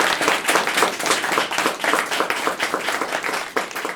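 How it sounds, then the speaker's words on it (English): Steady applause from a crowd, dense clapping that stays loud and continuous throughout. "let's give a round of applause."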